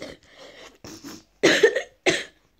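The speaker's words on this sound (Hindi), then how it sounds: "ओ गाइस बहुत खांसी है" A man coughs in a few harsh bursts, close and loud, with short pauses between them during a casual game of eight-ball pool.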